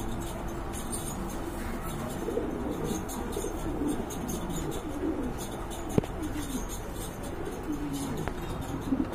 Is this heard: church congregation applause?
no